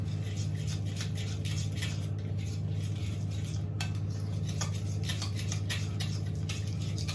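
A spoon or utensil scrapes and clinks in a bowl, mixing a rub for lamb shoulder in a Mediterranean-style confit, with quick close clicks over a steady low kitchen hum.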